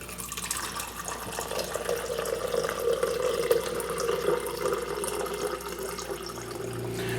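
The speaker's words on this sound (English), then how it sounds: "So you just press the top button here, and then she'll start dispensing out the water." Water pours from a Garrison water cooler into a cup, a steady close gurgling stream with a rising tone as the container fills, running continuously without talk.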